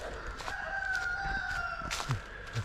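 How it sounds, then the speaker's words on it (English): Roosters in a Florida neighborhood crow, one long, drawn-out call outdoors, with a couple of short clucks and quiet morning ambience around it. "The neighborhood roosters are waking up."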